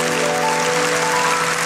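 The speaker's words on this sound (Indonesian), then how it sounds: "Siapa yang percaya berikan sorak-sorai bagi Tuhan" Church congregation applauding and cheering during a worship service, a dense, continuous burst of clapping and voices lasting under two seconds.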